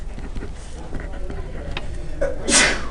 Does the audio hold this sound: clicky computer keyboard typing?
no